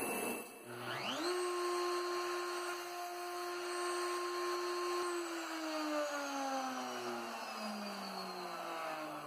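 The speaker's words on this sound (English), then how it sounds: "Turn the router on." A CNC router spindle on a LinuxCNC machine spins up with a rising whine, holds a steady high-pitched drone, then begins winding down, loud and close with no speech.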